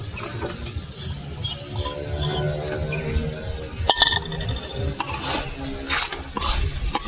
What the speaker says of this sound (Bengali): পেঁয়াজের বেরেস্তাটা ওপর দিয়ে দেবো, দিয়ে একটু নেড়ে চেড়ে নামিয়ে নেব।